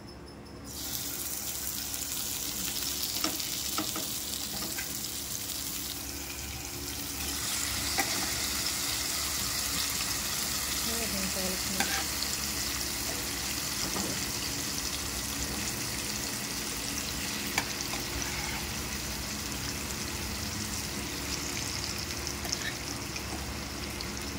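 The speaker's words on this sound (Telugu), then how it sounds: "మనము ½ అన్ అవర్ మ్యాగ్నేట్ చేసుకున్న చికెన్ని ఇప్పుడు ఈ ప్యాన్లో వేసుకోవాలన్నమాట." Marinated chicken for curry frying in a pan, a steady hiss-like sizzle lasting throughout, moderately loud and even, with a few small clicks and no talk.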